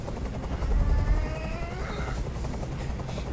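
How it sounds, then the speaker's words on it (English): Helicopter rotor noise from the video game Detroit: Become Human throbs steadily for a few seconds. The low, pulsing chop stays close and loud, and faint game sounds can be heard beneath it. "I can't stand that noise anymore. Tell that helicopter to get out of here."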